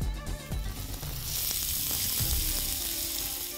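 Onion dropped into preheated sunflower oil in a pan, starting with a few soft knocks and then a steady, loud, close hiss of frying that holds to the end.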